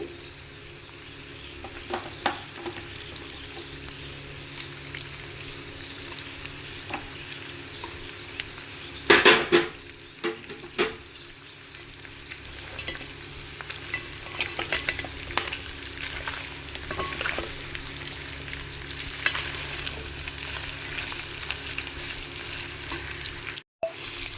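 Sliced onions frying in a pan of country chicken fry, with a soft, steady sizzle and scattered stirring and utensil knocks, and a louder clatter partway through.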